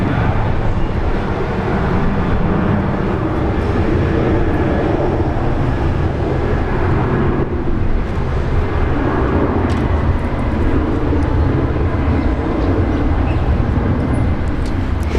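Airliner landing at Brisbane Airport: a loud, continuous broadband jet roar that stays heavy and steady throughout, with no talking.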